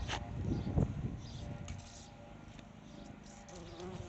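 Bees buzz steadily around their hive in an unmown wildlife garden, a soft close drone with faint outdoor background and a quiet voice.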